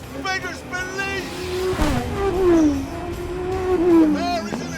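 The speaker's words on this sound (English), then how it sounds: "The engine is now producing 820 horsepower, and the speed just beggars belief." An 820-horsepower high-performance car accelerates hard, its engine note rising and falling in sweeping revs, loud and close, with someone talking over the roar.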